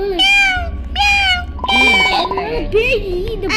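A cat meows repeatedly in the Roblox game, several drawn-out, rising and falling meows close and loud, blended with game sounds and a low background hum.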